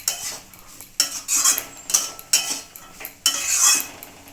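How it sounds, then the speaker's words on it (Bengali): A metal spoon stirs sugar and green chillies in a cooking pan, with repeated sharp scraping and clinking strokes in an uneven rhythm, close and loud with no talk. "চিনিটা দিয়ে আমি ভালো করে একটু নাড়াচাড়া করে নিলাম।"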